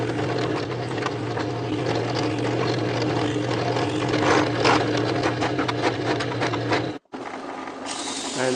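A power drill whirs steadily and close while boring screw holes in a clamped wooden engine cylinder part, a dense buzzing grind that cuts off abruptly near the end, then a brief quieter hum.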